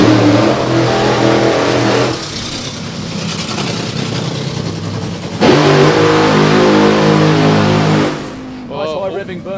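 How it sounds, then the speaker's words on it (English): A drag racing car revs hard in a burnout at a live racing event, loud sustained high engine tones that fall away and then surge again. Commentary talks over it. "Nice high revving burnout for Anita"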